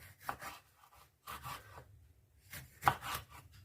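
Knife slicing onion into small rings on a board for a quick breakfast, a few soft scraping cuts spaced in uneven clusters, close and quiet.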